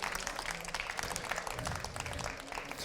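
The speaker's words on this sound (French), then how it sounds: "je vous invite à les applaudir chaleureusement" Warm applause at a school energy-saving awards ceremony, many hands clapping together in a busy, continuous patter that holds at a moderate level for nearly three seconds.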